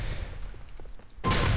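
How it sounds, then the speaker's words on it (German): A shotgun loaded with explosive rounds fires in the GTA IV multiplayer game, a loud sudden blast that cuts in after a stretch of quieter in-game background noise. "Das ist ein Schrotgewehr, was explodiert dann?"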